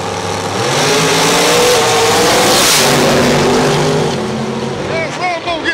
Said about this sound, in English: Pontiac. Team North. Camaro, Team South. Rambo versus Buck.